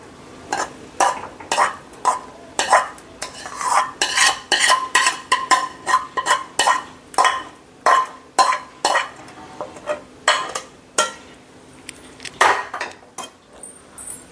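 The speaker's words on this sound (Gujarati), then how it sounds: "તો આ રીતે આપણે એક થાળીમાં લઈ લઈશું ઠંડો કરવા" Cooked milk halwa being spooned from the pan onto a plate to cool: a steady run of metal scrapes and clinks, close and fairly loud, falling into an irregular rhythm with short gaps and no talking.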